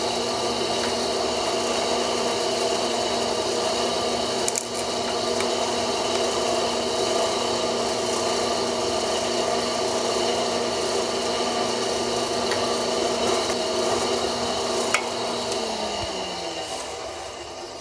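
Power drill with a 3/16 bit boring holes through a Kydex sheath, a steady whirring motor drone with faint scraping ticks that winds down at the end.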